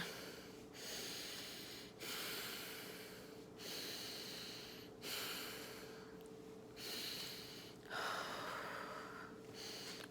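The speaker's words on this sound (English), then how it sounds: "So like right now, see, I'm gonna get the pain really quick. Oh gosh. So I try to breathe through it." A woman in labor breathing through a contraction, several slow, rhythmic breaths with audible inhales and exhales, quiet and close, with no talking.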